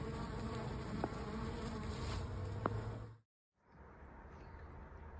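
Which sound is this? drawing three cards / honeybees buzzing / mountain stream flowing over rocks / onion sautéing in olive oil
honeybees buzzing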